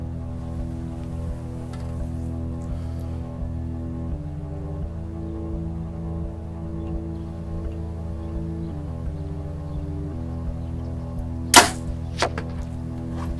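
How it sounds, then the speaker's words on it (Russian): Carbon arrows loosed from a bow at a target 50 meters away give one sharp crack near the end and a fainter knock just after, over a steady low hum with no talk. "Делаю выстрел по средней цели, стараюсь сделать группу и посмотреть на кучность работы стрел."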